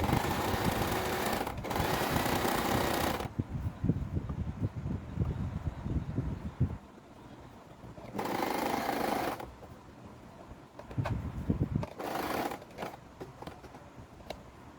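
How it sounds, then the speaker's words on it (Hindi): A sewing machine stitches over dori piping on fabric in several bursts of buzzing, close and fairly loud, with quieter stretches of handling noise between runs. "इसके ऊपर सिलाई लगा लें।"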